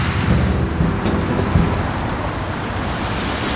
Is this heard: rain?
yes